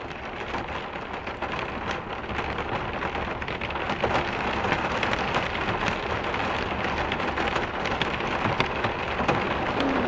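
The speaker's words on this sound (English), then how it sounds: "Is it raining hard enough, Susie?" Steady storm rain pours down on an off-grid cabin, a dense hiss of drops striking surfaces nearby, constant and fairly loud without voices.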